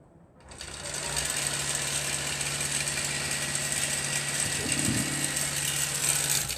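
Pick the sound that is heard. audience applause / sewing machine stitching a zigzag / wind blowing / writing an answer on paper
sewing machine stitching a zigzag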